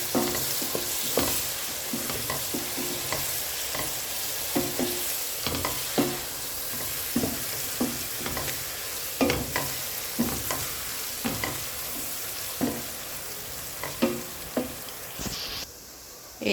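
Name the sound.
garlic frying and being stirred in a pan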